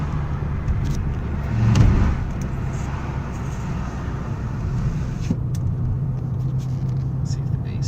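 Steady low rumble of a car's engine and road noise from inside the cabin during a test drive, continuous and fairly loud, with a brief swell early on and soft voices faintly underneath.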